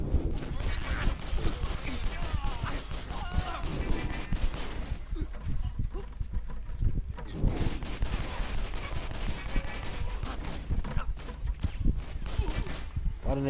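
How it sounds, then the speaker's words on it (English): Dense, continuous gunfire crackles from the video game Stranglehold, with rapid overlapping shots and bursts that run almost without pause, loud and close, with talk mixed in. "What an interesting way of shooting around the place."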